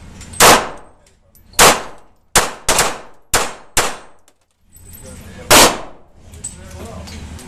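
Seven sharp, loud reports from a Kahr P380 pistol being test fired, spaced irregularly with a quicker pair and a trio in the middle, each followed by a short ring and echo outdoors.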